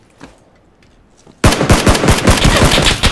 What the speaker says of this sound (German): ich werde von direkt unter uns beschossen